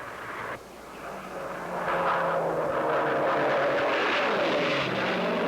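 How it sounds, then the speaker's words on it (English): Propeller-driven piston-engine racing airplane flying over an air race oval course, a droning engine whine that swells in and holds with shifting pitch, moderately distant. "To enter, an airplane must have a propeller and a piston engine."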